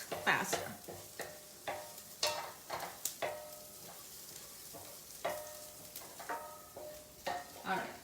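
A pan being stirred while something toasts in it, with spoon scrapes and clatters in irregular bursts over a soft sizzle, close and moderately loud, no talking.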